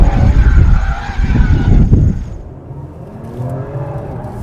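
A Genesis G70 3.3T is floored, its engine roaring loud and close under hard acceleration before the sound falls away into a quieter rising whir.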